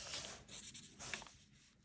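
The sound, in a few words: writing a math expression by hand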